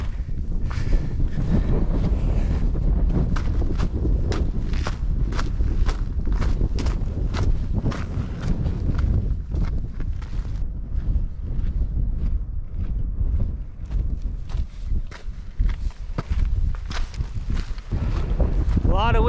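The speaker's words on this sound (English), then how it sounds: "A lot of wind this morning." Strong wind roars steadily across the microphone on an early-morning mountain walk in bad weather, loud and continuous with rhythmic crunching footsteps underneath.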